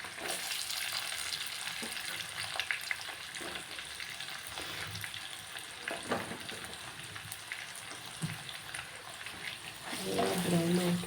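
Chopped onion and ginger-garlic paste sizzle and fry steadily in a pan, a constant close crackle with occasional stirring scrapes and a brief surge of louder bubbling near the end.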